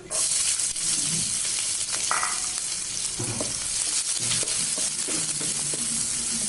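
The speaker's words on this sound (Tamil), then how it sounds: "100 கிராம் சின்ன வெங்காயம் பொடியாக கட் பண்ணி வச்சுருக்க சேர்த்திக்கலாம்." Finely chopped small onions sizzle in hot oil in a pan, a continuous close frying hiss with occasional stirring scrapes, and no voices.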